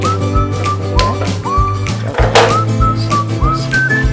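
A loud, steady pressure cooker whistle cooking rice on a gas stove runs throughout, with pitch glides and a busy, full background; no voices.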